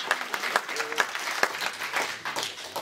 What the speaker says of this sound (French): sous les applaudissements de nos citoyennes et citoyens